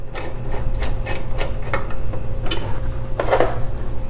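Small Phillips-head screws being driven by hand screwdriver into a VESA adapter plate on the back of a TV, giving a run of light metallic clicks and scrapes over a steady low hum.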